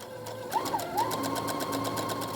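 A sewing machine runs a steady, close stitching burst along the underarm and side seam of a duster coat, with a short hum and a rhythmic needle clatter that keeps on without any talking.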